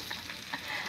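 Fish frying in a pan during home lunch cooking, a brief steady sizzle with a soft stirring texture, close and fairly quiet, with no voices.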